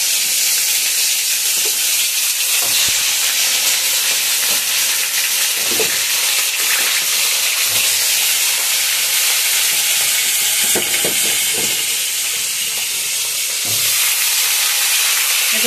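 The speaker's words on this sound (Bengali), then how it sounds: "ভেটকি মাছ ভাজা হচ্ছে, ঠিক আছে।" Large round pieces of bhetki fish frying in a wok, a loud continuous hiss and crackle of hot oil that stays steady and close for the whole stretch, with a few scrapes along the way.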